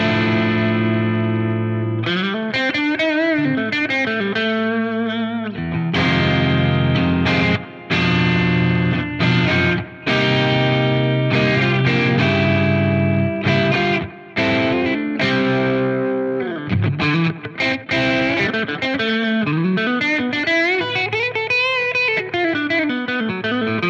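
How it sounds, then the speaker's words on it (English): Telecaster electric guitar with two pickups in parallel, a thick, slightly hollow driven tone, plays chords and bending lead lines, with brief pauses between phrases. "Two pickups here in parallel."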